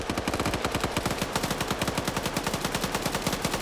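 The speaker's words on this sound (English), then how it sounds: "Gummy takes a headshot from the PKP gunner by Martin." Rapid, steady burst of PKP machine gun fire in a tactical shooter match, loud and close, with evenly spaced shots running continuously without pause.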